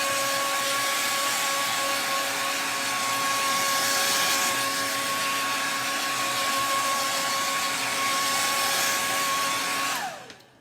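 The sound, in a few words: blow dryer drying chalk paint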